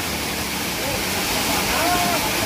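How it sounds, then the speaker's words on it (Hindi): A small waterfall at Kachargarh cave in Darrekasa, Maharashtra, pours with a loud, steady broadband rush, while a faint voice comes through briefly. "बहुत छोटा सा झरना है ज़्यादा बड़ा तो नहीं है"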